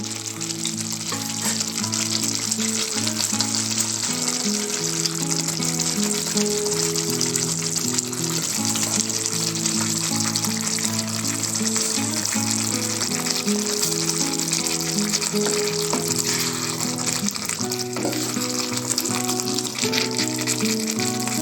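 Potatoes frying in a sizzling spiced dhaba-style dum aloo gravy, giving a steady dense sizzle that holds at an even level throughout with no pauses, close by, and no voices over it.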